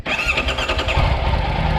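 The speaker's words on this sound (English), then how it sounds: "to make the bike go broom broom" A motorbike engine fires up with a quick crank and catches into a rough, throbbing idle, moderately loud and close, with no talking over it.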